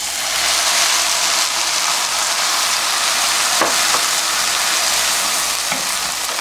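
Onions with hot chili powder stir-fry in a pan, giving a steady, loud broadband sizzle throughout with a few faint clicks of stirring and no voices.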